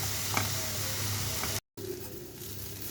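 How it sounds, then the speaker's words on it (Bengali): Semolina and water stirred in a hot pan, a continuous low sizzle with soft scraping, broken by a brief moment of silence midway. "জল দিয়ে অনবরত নাড়তে হবে।"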